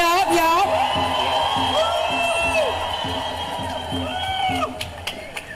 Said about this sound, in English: make some noise for my senator, y'all